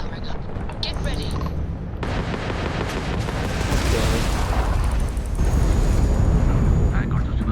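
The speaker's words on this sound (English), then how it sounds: "The ship's weapons are powering up." Spaceship weapons in Starfield fire in a continuous barrage of booming, crackling shots and impacts that builds steadily louder across the stretch, with game dialogue voices mixed in.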